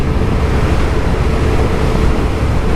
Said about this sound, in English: that diesel engine it's just purring for you